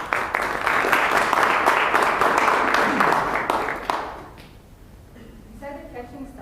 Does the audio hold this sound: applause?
yes